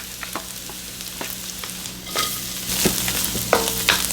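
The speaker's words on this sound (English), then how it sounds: "So now we cook our shrimp." Shrimp, shallots, onion, tofu and radish frying in a pan for shrimp pad thai, a steady close sizzle with occasional scraping knocks, building louder toward the end.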